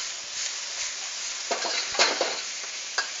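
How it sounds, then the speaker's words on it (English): Chinese broccoli is stir fried in a pan over high heat, giving a continuous sizzle broken by several scraping stirs and clattering tosses, close up with no talking. "Vegetable goes in. Now that it's wet, I'm going to turn it back to high. And we'll stir fry this."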